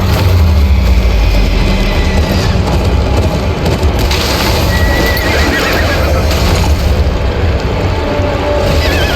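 Several horses whinny loudly over a dense clatter of hooves in the video game Game of Thrones: Kings Road, with rumbling crashes and commotion filling the close, busy scene.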